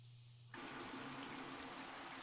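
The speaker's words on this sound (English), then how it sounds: "allowing the water to rinse the grime from her hair" Shower water switches on after a low hum and then pours steadily in a close, constant hiss, a rinsing sound effect in an audio drama.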